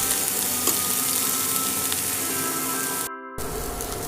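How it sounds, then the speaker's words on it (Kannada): Palak (spinach) frying in a pan for palak rice, a loud close crackling sizzle with stirring, briefly cut off near the end before resuming. "ಈ ಥರ ನೀಟಾಗಿ ಫ್ರೈ ಮಾಡಿಕೊಂಡು ಆಮೇಲೆ ರೈಸ್ ಹಾಕೊಬೇಕು"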